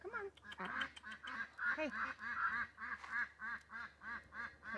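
Domestic ducks quack near a shipping container, a busy run of close, loud, rhythmic quacks one after another, with a person briefly speaking at the start.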